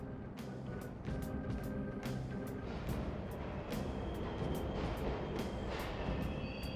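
Subway train in the Persona 5 Royal video game rumbles steadily throughout, a dense continuous roar with rhythmic clacks and faint high whines over the top, loud and close.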